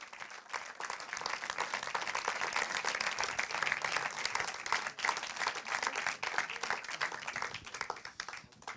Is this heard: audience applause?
yes